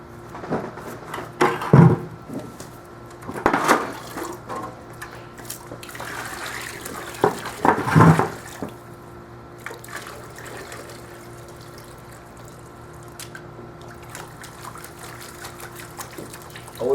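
Water sloshing in a gold pan during cleanup at a gold field, with a few splashy bursts of swirling liquid and trickling between them, then quieter stretches of faint dribbling.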